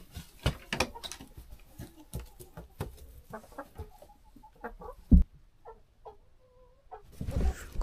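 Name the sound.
chickens clucking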